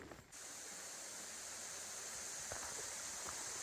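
A mountain creek near the Brown Mountain Creek shelter on the Appalachian Trail rushes with a steady, close hiss of flowing water, continuous and unbroken after a brief dip at the start.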